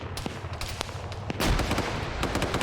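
A heavy grenade blast in the military shooter Arma 3 erupts midway as a loud, broad burst, preceded by scattered sharp gunshots and followed by a lingering rumble with more distant shots.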